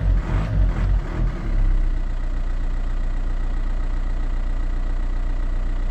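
The engine of a Volkswagen Touran with the bonnet open revs briefly in a few quick rises and falls, then settles into a loud, steady idle close by.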